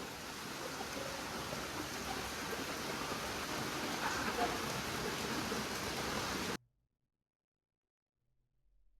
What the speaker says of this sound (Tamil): நேற்றுலேருந்தே கிட்டத்தட்ட மழை வந்துக்கிட்டே இருக்குது, நிற்கவே இல்லை.